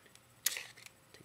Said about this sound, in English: Open ejection port.